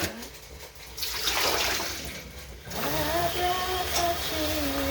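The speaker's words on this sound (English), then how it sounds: "rinse the yams." Running water rinsing yams, a steady close splashing rush with a short dip midway, heard alone.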